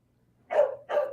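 A dog in the background gives two quick barks, close together and moderately loud, against an otherwise quiet room.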